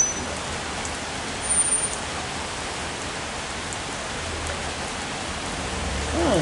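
Steady rain falling on a surface, a constant broadband hiss from start to end with a brief swell midway, near and unbroken, with no talking.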